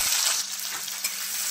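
Chopped tomato with ginger and green chili sizzles and fries in a pan, a close, steady crackle over a brief stretch, with no talking.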